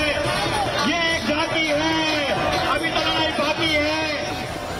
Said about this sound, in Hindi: देहरादून के परेड ग्राउंड में स्वतः स्फूर्त भीड़ उमड़ी